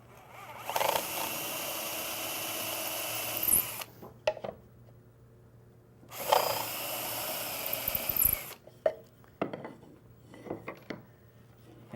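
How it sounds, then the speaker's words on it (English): A power drill runs in two long bursts of about three seconds each, whining steadily as it bores through a wooden cabinet drawer face, with clicks and knocks between and after. "And drill my drawer face."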